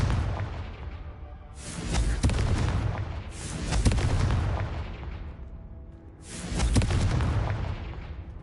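Confringo fire spell explosions in Hogwarts Legacy, three loud bursting booms spaced a couple of seconds apart, each flaring sharply and then rumbling away.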